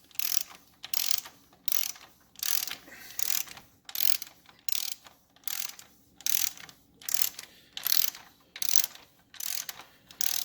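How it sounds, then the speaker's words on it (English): A torque wrench ratchets in a steady series of quick, crisp clicking bursts while tightening a self-locking nut on a 1974 Norton Commando engine's bottom end, close up and alone, with short pauses between strokes. "so we're gonna go ahead and torque it down now"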